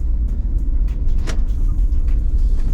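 A DFSK Glory i-Auto SUV climbing a mountain road in manual mode, its engine a steady, loud low rumble close to the cabin, with one brief higher whine partway through.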